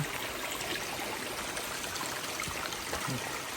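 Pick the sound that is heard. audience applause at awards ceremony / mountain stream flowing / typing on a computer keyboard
mountain stream flowing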